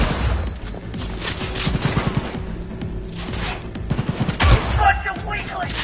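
Sustained video game gunfire rattles in dense overlapping bursts, loud and continuous, with a heavier thump near the end and game voices calling out beneath the shooting.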